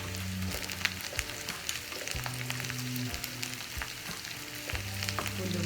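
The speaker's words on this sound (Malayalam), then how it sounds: "അതിലോട്ട് നമുക്ക് എടുത്ത് വെച്ചിട്ടുള്ള ഉലുവ ഇടയിൽ കൊടുക്കാം." Fenugreek seeds dropped into a hot pan of oil for Kerala sambar, a dense, continuous sizzle and crackle with a few clinks of a spoon stirring, close and unbroken.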